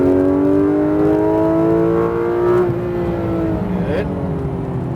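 Porsche GT3 RS engine accelerating hard on a race track at Exotics Racing in Las Vegas, loud and close, its pitch climbing steadily through the gears with a brief dip and shift near the end.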